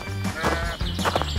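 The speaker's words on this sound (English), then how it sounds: "The sheep are also here." Sheep bleat several times in quick succession, fairly close and loud, with harmonic wavering calls overlapping one another.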